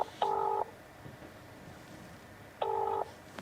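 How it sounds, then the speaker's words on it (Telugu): Two short electronic telephone keypad tones, each lasting under half a second and spaced about two seconds apart, sound clearly over a quiet background as a phone number is dialed. "ఫోన్ చేద్దాం ఒకసారి"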